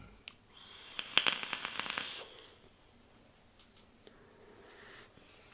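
A single drawn inhale through an e-cigarette loaded with Naked 100 Lava Flow e-liquid: a soft, airy hiss with faint crackle lasting about a second, close and quiet, followed by near silence.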